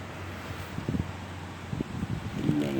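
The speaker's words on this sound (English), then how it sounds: "and it's windy" Wind blows outdoors in wet weather during a mower tire repair, a steady rushing noise with gusty buffeting bursts against the microphone.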